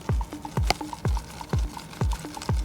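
Small gold nugget rattling in a gold pan while panning High Grader pay dirt, with about six rhythmic swirls, each ending in a sharp tap and a faint metallic clink, close and alone.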